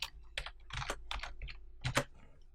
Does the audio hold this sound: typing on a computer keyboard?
yes